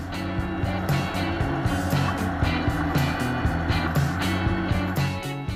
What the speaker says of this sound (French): Nous traversons un tunnel, le temps de croiser une Porsche et quelques Mercedes